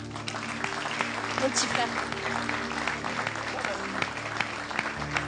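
Steady applause from a congregation at a church prophetic service, sustained clapping throughout while someone speaks over it.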